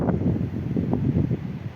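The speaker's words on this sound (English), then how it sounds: "Pretty windy." Steady, rumbling wind buffets a nearby microphone without a break outdoors at Omarama, a low roar that lifts and dips slightly throughout.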